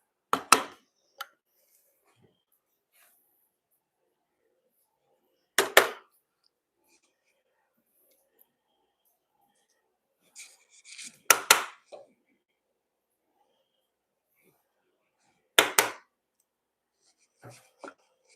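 Sharp, isolated strikes of a mallet driving a chisel into wood to make stop cuts along a line, coming in small clusters of one to three knocks separated by long quiet gaps.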